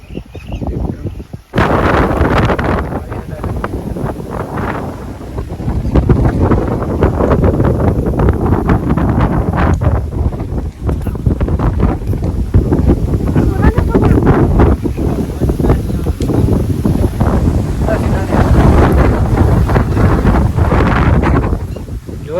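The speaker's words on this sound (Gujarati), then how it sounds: "વાવાઝોડું પણ જોરદાર આવ્યું" Strong wind buffets the microphone in heavy, continuous gusts, roaring steadily with rumbling low-end noise, while voices talk faintly underneath.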